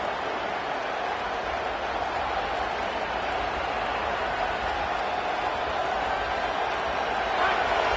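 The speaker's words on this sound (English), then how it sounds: "Listen to this crowd just shaking the girders of this place, trying to help their defense." A dense, constant roar of a large stadium crowd at an American football game involving Tennessee fills the space, loud and unbroken, with no single voice standing out.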